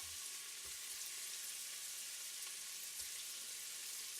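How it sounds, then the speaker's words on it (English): Beef pieces frying in butter in a hot pan, a steady broadband sizzle that holds evenly throughout with no voices over it. "And it's going to fry off the beef into pieces."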